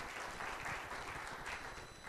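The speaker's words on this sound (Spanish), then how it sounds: "Démosle un aplauso al Señor." Steady, dense applause from a church congregation, a broad continuous wash of many hands clapping together at moderate distance throughout.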